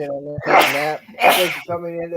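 Two loud sneezes burst out one after another, each a sharp broadband blast, with someone talking before, between and after them.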